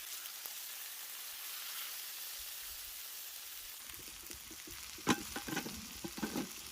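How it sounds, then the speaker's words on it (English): Asparagus and steak fry in a pan at a forest tent campsite, a steady hissing sizzle throughout, joined halfway by scraping and tapping of a utensil turning the food. "Just got this asparagus going, got the steak going"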